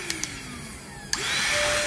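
A small Dagmara car-mounted vacuum cleaner clicks on and then whirs with a steady close motor whine after a few switch clicks, alone without talk.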